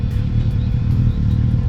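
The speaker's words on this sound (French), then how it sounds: "puis il y a du vélo à moteur aussi" A motorcycle engine rumbles steadily close by on a Beaujolais trail, a continuous low throbbing drone that stays loud through the whole moment with no talk over it.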